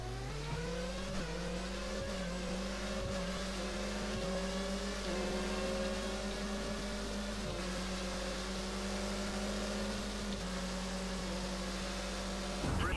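Opponent Formula 1 race car engine from the PC racing game F1 2013, a steady high-pitched engine whine with shifting harmonics as it revs and changes gear, loud and continuous throughout with no talking.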